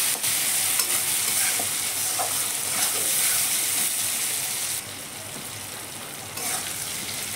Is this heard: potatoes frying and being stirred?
yes